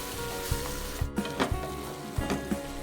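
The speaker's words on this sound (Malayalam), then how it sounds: "ഇതൊന്ന് വഴറ്റിയെടുക്കാം." Blended tomato sautéing with spices in a pan, a steady close sizzle broken by regular spatula scrapes and taps against the pan, roughly twice a second.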